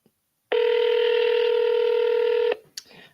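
A telephone gives one long steady dialing tone for about two seconds, loud and close, followed by a short high beep and faint noise.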